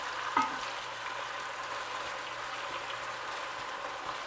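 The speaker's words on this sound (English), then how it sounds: "the onions have sauteed for 6 minutes" Onions and chopped green onion sauté in olive oil with a continuous close sizzle, one sharp stirring clack early on, then steady bubbling frying alone.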